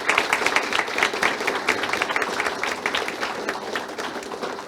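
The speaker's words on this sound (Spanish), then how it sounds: "Un fuerte aplauso también para él." A crowd claps warmly at a university lecture event thanking a professor, with distinct individual claps forming an uneven, fluttering ovation throughout.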